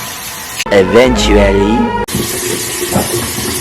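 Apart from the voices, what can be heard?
water running while rinsing face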